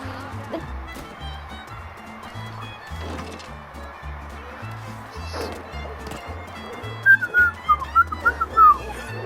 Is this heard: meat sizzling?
no